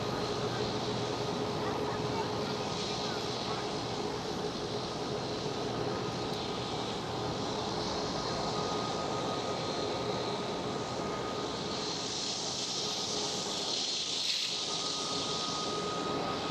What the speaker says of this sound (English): we are sending this KLM 777-300ER away, off to a far destination